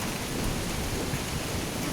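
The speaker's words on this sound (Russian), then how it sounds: "Молнии пуляли до рассвета, поэтому в палатку мы смогли вернуться только к 6 утра." A night thunderstorm in the Chinese countryside gives a loud, constant wash of heavy rain with a deep rumble of thunder underneath, and no voices.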